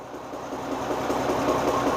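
International Harvester tractor engine running steadily under load as the clutch engages, a close, continuous mechanical drone with a dense rattly texture that holds level throughout, with no voices.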